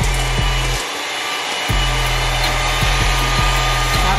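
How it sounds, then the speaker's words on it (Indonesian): Electric hand mixer whipping steamed sponge cake batter at high speed, a loud steady motor whine with repeated brief pauses and restarts as the beaters are lifted and dipped back in. "Lalu ini bahannya semua kita kocok dengan speed yang tinggi ya"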